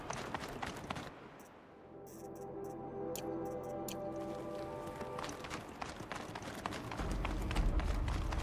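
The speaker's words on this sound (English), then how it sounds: "I'm pleased to hear another person stomping about in here." Heavy footsteps stomp about inside a frozen-north building in the video game Horizon Zero Dawn: The Frozen Wild, as a string of fairly close, irregular thuds over a sustained musical score.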